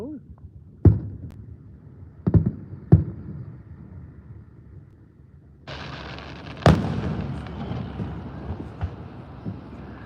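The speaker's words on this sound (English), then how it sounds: "Back to the fireworks we go." Fourth of July fireworks explode over a stadium: a few sharp booms land in the first three seconds, then a louder burst brings sustained crackling and hiss with scattered pops, all fairly distant and echoing.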